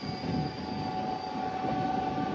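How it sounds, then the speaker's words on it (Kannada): Chamundi Express, a daily Mysuru to Bengaluru train, rolls past at a crossing with a steady loud rumble of wheels on rail and a thin high squeal running throughout. "ನಮ್ಮ ಒಂದು ಫಸ್ಟ್ ಅಫಿಷಿಯಲ್ ಕ್ರಾಸಿಂಗ್ ನೋಡ್ರಿ ಚಾಮುಂಡಿ ಎಕ್ಸ್ಪ್ರೆಸ್ ಜೊತೆ"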